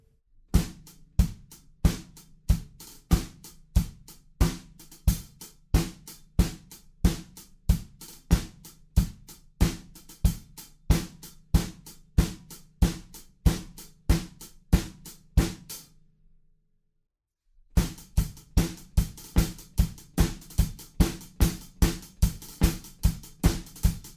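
A steady drum kit beat of regular sharp hits with eighth notes on the kick and hi-hat, pausing briefly near the end before resuming at the same even tempo.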